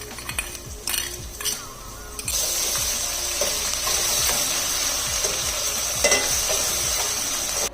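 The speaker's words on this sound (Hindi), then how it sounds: "लहसुन और अदरक को प्याज के साथ फ्राई होते तकरीबन 2 मिनट हो गए" Garlic, ginger and onion fry in a pan with a loud, steady sizzle that swells after a few opening clinks and scrapes of a spoon, with occasional stirring knocks continuing beneath the sizzle and no talking.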